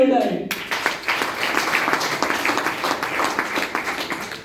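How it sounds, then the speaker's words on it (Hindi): Applause from an audience at a wellness company business-plan meeting, a burst of many hands clapping that begins suddenly after a moment of talk and keeps up steadily to the end. "एक शानदार ताली हो जाए"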